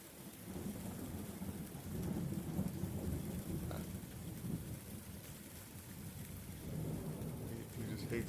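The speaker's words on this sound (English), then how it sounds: "The storm is upon us." A thunderstorm with rain falling steadily, low rolling thunder swelling and fading under the patter, heard from a sheltered spot beneath a small overhang; faint and distant overall.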